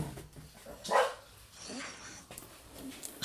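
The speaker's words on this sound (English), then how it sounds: "Excuse my dogs." A dog barks a couple of times nearby, short sharp yips between quieter stretches of background noise.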